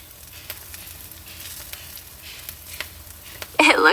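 A grilled cheese sandwich with pepperoni and salami sizzles and fries in a skillet, a soft steady crackle with small pops throughout and a brief louder burst at the end.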